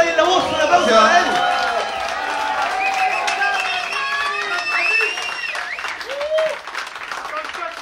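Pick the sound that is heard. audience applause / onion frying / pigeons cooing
audience applause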